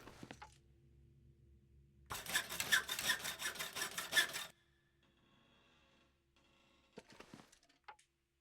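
Hacksaw sawing in a video game, a dense burst of rasping strokes for about two seconds, framed by quieter clunks and a soft ambient hum before and after.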